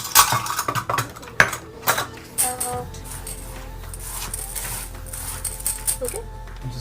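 Barley is stirred into haleem in an Instant Pot, with clinks and scrapes of a utensil against the pot, sharpest at first and then softer under talking and a low steady hum.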